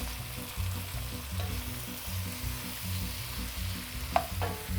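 Peppers fry in a pan with a steady, moderate sizzle and a few soft stirring knocks, close and continuous with no talking.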